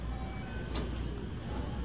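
A train rumbles into Nishikujo Station in Osaka with a steady low roar and a brief hiss of brakes midway, filling the whole clip at a moderate level.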